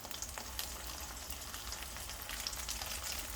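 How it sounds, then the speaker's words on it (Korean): Frozen chopped green onions frying in oil to make scallion oil for rabokki, a quiet, steady sizzle with faint crackles throughout and no voices. "이렇게 파기름을 좀 내주시고요. 어느 정도 이렇게 볶아서 파 향이 난다 싶으면은"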